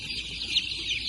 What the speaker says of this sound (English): The roosters are actually Rhode Island Reds.